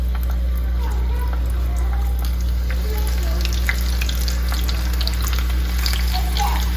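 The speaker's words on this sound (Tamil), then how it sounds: "எண்ணெய் காஞ்சதுமே இதுல வந்து நான் சின்ன வெங்காயத்தை போடுறேன்." Small onions (shallots) frying in hot oil give a loud, continuous crackling sizzle with scattered pops, over a low steady hum and faint background voices.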